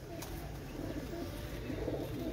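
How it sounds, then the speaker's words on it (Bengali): A pair of Pakistani kaldam pigeons coos softly and close by, low repeated murmuring calls over a faint background hum. "অসাধারণ এক জোড়া কালদম কবুতর"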